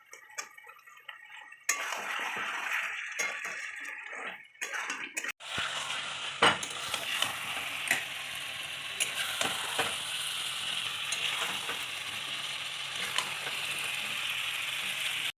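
Green chillies dropped into chicken frying in a pan for chicken kosha, giving a sudden loud burst of sizzling after a few clinks of utensils, then a steady crackling fry with occasional spoon scrapes against the pan.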